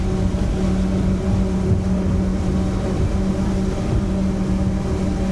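Twin outboard engines on a RIB boat roar loudly and continuously while accelerating, a dense mechanical drone with low rumble that holds steady throughout, with no voices.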